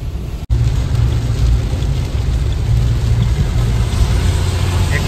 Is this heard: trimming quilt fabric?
no